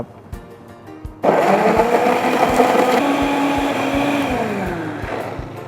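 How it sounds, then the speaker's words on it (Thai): A blender whirs loudly, blending onion, garlic, ginger and galangal with a little water; after about a second of quiet ticking it starts abruptly and runs steadily, its pitch gradually settling. "เริ่มจากปั่นตัวหัวหอมนะครับผม กระเทียมครับ ตัวขิงครับ ตามด้วยข่าครับ น้ำเปล่าเล็กน้อยนะครับ"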